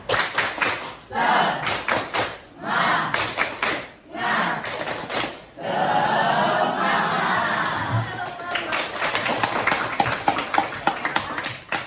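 A school class claps and chants the rhythmic 'tepuk semangat' cheer together, loud bursts of patterned clapping mixed with voices shouting in unison, with short pauses between the phrases.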